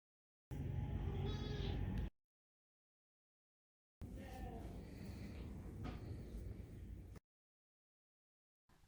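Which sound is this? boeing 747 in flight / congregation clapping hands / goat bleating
goat bleating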